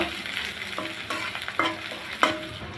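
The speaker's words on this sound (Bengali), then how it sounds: "পেঁয়াজটা একটু হালকা লাল লাল করে ভেজে নেব" Chopped garlic and onion fry in a pan, a steady sizzle broken by several sharp spatula clacks and scrapes as they are stirred, close and fairly loud, with no talking.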